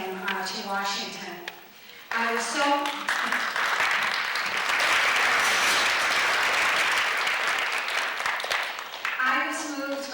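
An audience of 3,500 Afghans in Washington applauds the interim Afghan leader, with dense clapping swelling loudly for several seconds between short stretches of a voice at the start and end.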